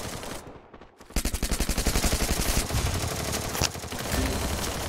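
Automatic gunfire in a Garena Free Fire match, a long rapid string of loud close shots after a brief lull, continuing steadily with a denser, rougher burst near the end.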